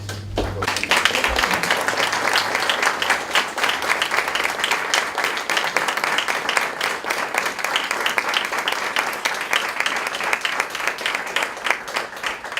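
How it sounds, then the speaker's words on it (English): A large crowd applauds steadily, dense clapping sustained and loud throughout, with no voices standing out. "I'd like to give a big round of applause"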